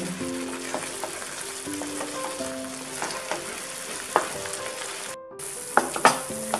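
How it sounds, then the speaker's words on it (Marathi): Onion-tomato masala for pav bhaji sautéing in oil in a pan, a steady close sizzle with scattered clinks and scrapes of a stirring spoon, with no talking. "आणि ह्याला तेल सुटेपर्यंत परतून घ्यायचं चांगलं."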